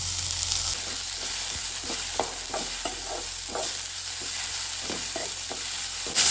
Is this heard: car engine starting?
no